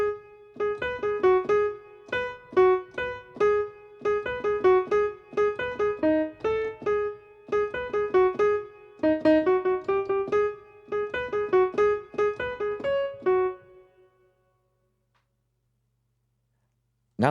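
A melody with all four parts layered together, bright synth-like notes in a steady, bouncy rhythm for about fourteen seconds before stopping abruptly into silence.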